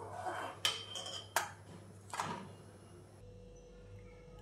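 A metal spoon clinks and scrapes against a pot of boiling chickpeas three times while foam is skimmed off, each knock sharp and close over a quiet background.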